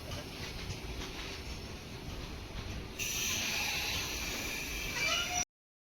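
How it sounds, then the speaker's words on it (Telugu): A large goods train loaded with coal passes through Charlapalli railway station in Hyderabad: a steady, loud, broad rumble and rattle that swells noticeably halfway through and continues before cutting off abruptly. "చాలా పెద్ద గూడ్స్ ట్రైన్ అయితే వచ్చింది"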